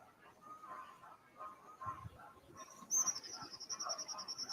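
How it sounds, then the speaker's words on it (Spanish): Small birds chirp and twitter at a distance in the Santiago del Estero scrubland, soft scattered calls joined by a brighter, repeated high trill toward the end. "Escucha esos pajaritos."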